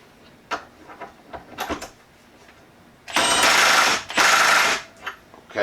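Milwaukee M12 Stubby cordless impact wrench set to 40 foot-pounds tightening a fastener: a few short handling clicks, then two loud sustained hammering bursts about a second each, close up with no talk.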